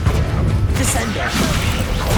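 Descendo spell slamming an enemy in the Hogwarts Legacy video game, a dense crashing impact burst amid continuous loud combat noise and whooshing effects, with voices in the background.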